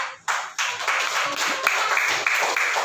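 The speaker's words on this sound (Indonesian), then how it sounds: "Beri tepuk tangan untuk kelompok pertama." A classroom applauds the first group after its presentation: a short burst of clapping from a small group of students, with individual claps audible at the start before it settles into a steady patter.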